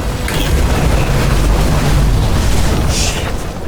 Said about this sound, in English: Fuses just blew.